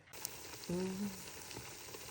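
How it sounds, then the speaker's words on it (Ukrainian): A steady crackling sizzle of potatoes with minced meat and cheese baking in an oven, with a brief higher tone partway through. "Як шкварчить"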